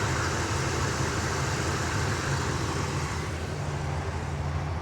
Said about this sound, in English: Engine sounds really nice and quiet.